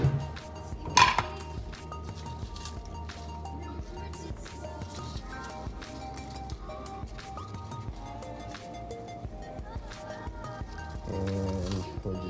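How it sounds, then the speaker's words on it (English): Knife taps on a cutting board chopping scallions come in a quiet, uneven run beside clinking pans in a home kitchen where eggs are heating, with a louder clatter near the start. "we're just gonna chop some scallions"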